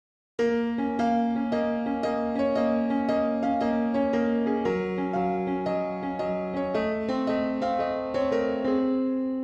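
A piano plays a song at full tempo, a steady, lilting melody, clear and close, with no talking.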